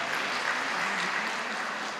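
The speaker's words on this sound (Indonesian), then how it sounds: "Boleh tepuk tangan yang meriah untuk Pak Erick." A crowd at a gathering of Lampung community members living away from home claps for Pak Erick, with dense, sustained applause holding at an even, moderately loud level and no speech heard.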